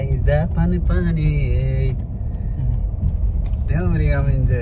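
A car drives along a road in the USA, its low engine and road rumble steady beneath close, continuous talking voices that dominate the clip.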